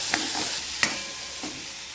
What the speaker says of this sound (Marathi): छान खरपूस भाजून घ्यायचं आहे वाटण